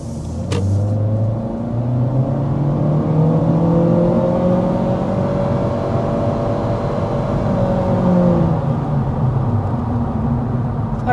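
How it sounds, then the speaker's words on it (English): A 2025 Honda Civic Sport under hard acceleration uphill, its engine note rising steadily in pitch through the revs, loud and continuous from inside the cabin with a brief dip near the start. "let's start with a hard acceleration"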